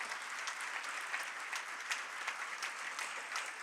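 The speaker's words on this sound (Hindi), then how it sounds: "अभी तालियां कमजोर है" Steady audience applause at a large welcoming gathering for a Jain monk in Nagpur, a dense continuous patter of many hands held at an even, moderate level throughout with no voices on top.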